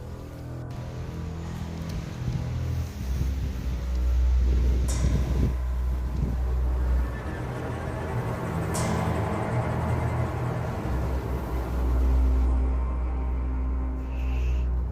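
Strong wind gusts through tree leaves near the Ganges in Rishikesh, a low, rumbling rush that swells and eases in waves, with occasional faint clicks and no speech.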